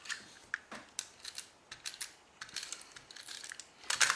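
Paper trimmed to 3 3/4 inches for a cardstock craft project: quiet, crisp snipping and slicing clicks in an irregular series of short strokes, close and faint, with no talking.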